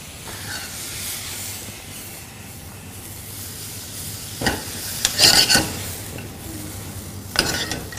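Vegetables for black bean sauce, including yellow squash and Chinese cabbage, stir-frying in hot oil: a continuous close hiss and sizzle, with louder bursts of tossing and scraping near the middle and again near the end, and no talking.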